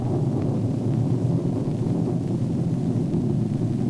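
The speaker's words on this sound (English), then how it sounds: "That's thunder you're hearing, farmer," Distant thunder rumbles low and steady, a deep, continuous growl with no sharp cracks.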